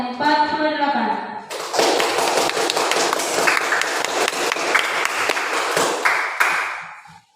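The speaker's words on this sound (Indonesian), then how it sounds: "Coba kita berikan aplaus kepada temannya yang membacakan Quran Surah Al-Ma'idah ayat 48" A voice speaks briefly, then a classroom of students breaks into loud, brisk clapping for a classmate who recited from the Quran; the applause holds for several seconds and then stops abruptly.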